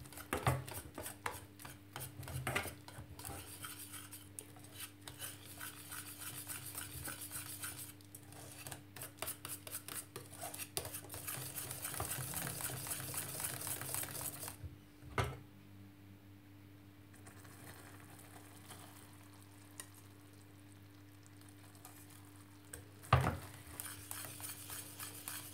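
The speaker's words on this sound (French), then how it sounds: "Là, je le mélange avec ma crème." A spoon stirs caramel into cream in a bowl, producing rapid scraping and clinking strokes over a low steady hum, then quieter with a single sharp knock near the end.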